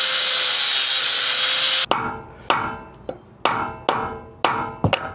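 A power tool cuts through a lug nut on a boat trailer wheel with a loud, continuous harsh metallic grind, then it stops and a series of sharp, close knocks follows at an uneven rhythm.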